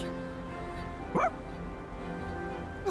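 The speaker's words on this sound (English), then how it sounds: "What a smart dog!" A single short, bright dog bark from Persona 3, heard clearly over a quiet, steady game soundtrack of sustained tones.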